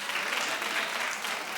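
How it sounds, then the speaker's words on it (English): A studio audience on Saturday Night Live claps in a dense, steady burst of applause, even in loudness from start to finish. "Clap if you did. No, clap. We clap around here."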